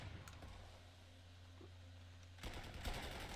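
Anti-aircraft gunfire from the Panzer Corps 2 wargame comes as a few sharp bursts, faint at first, then a louder cluster of rapid shots near the end over a low steady hum.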